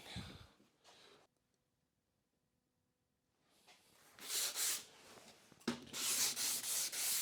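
Light hand sanding of wood to clear tear-out burrs on a pantry pull-out produces rhythmic, close, raspy back-and-forth strokes, a few soft rubs first, then a quiet pause, then louder sustained scrubbing passes.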